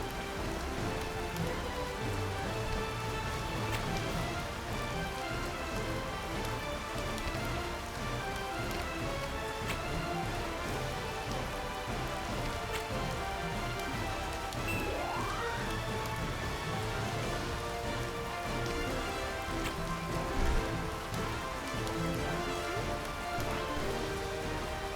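Rain pours down in the video game Horizon's Gate as a steady, dense hiss of falling drops that continues evenly throughout, with no voices.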